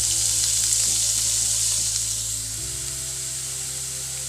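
Pepper powder fries in hot oil in a pan for homemade pizza, giving a steady, close sizzle and crackle that runs throughout, with the tone shifting slightly partway as it is stirred.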